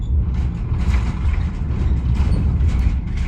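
Traffic crosses the 1930s Route 79 steel deck bridge at Chenango Forks, and the deck gives off a continuous metallic rattle and rumble with clanking bursts. It is close and loud throughout.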